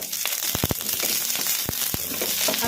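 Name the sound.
green chilies frying in hot oil on medium flame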